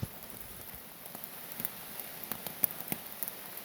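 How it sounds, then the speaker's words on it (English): Early-morning rain falling on the Appalachian Trail, a soft steady patter with scattered sharper drops ticking close by on a surface, fairly quiet with no voices. "It's raining."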